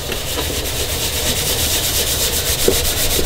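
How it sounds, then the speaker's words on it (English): Steady, rapid back-and-forth scrubbing of a surface with Arm & Hammer cleaner, loud and close with an even rasping rhythm throughout and no talking. "I guess you need to give it a little scrub"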